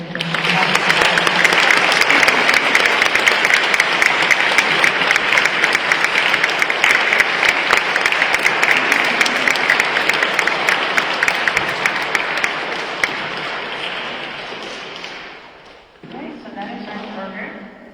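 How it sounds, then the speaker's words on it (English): A crowd at a Martyr Day event claps steadily for a long stretch, loud and dense, then the applause tapers off near the end as a voice begins speaking. "We can all clap for the martyrs right now."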